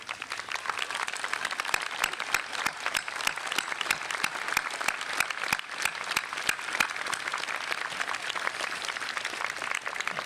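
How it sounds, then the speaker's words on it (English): A standing audience at a high school commencement ceremony applauds, producing a full, continuous roar of clapping with sharp individual claps cutting through, sustained and even throughout. "please stand and let's give them a big round of applause"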